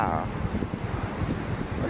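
Small waves wash ashore at Kamala Beach, Phuket, under overcast rainy-season skies. Strong gusts buffet the microphone over the low surf rumble.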